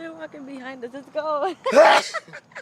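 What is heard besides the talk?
sneeze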